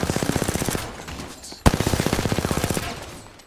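Rapid bursts of automatic gunfire, loud and close, with one sharp louder shot in the middle before the rattling resumes.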